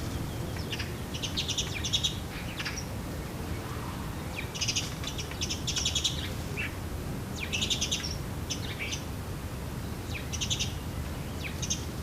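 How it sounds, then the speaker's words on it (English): Starlings and sparrows gather at a garden feeder, giving repeated bright chirps and twittering calls in short clusters over a steady low outdoor hum, fairly close, with no voices. "The starlings are very nimble, but the sparrows outdo their moves all the time."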